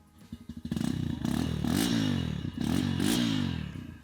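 A Bajaj Pulsar 150 motorcycle engine sputters to life and idles with a deep, throbbing rumble, revving up twice, loud and close.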